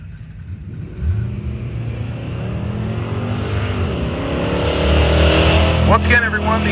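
A Dodge Dart drag race car stages at a drag strip, its engine burbling loud and rough, then rising into a roaring launch near the end amid other race engines. A commentator talks over it throughout.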